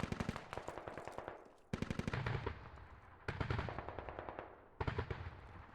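Full-auto rifle fire in a military video game, four long rapid bursts separated by brief pauses, each one loud, sharp and close.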